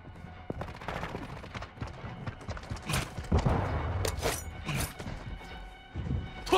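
Gunfire in Call of Duty Modern Warfare 2 multiplayer, with scattered sharp shots and short bursts over busy battlefield clatter and footsteps, some shots near and loud and others more distant.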